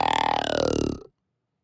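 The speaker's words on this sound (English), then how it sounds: "a hunting call, which is a sort of tube where you blow in it and it makes this kind of groan sound" A hunting call tube blown to produce a single low, throaty groan lasting about a second, buzzy and rasping like a belch, close and fairly loud, ending abruptly into silence.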